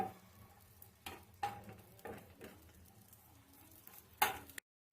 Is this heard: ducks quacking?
no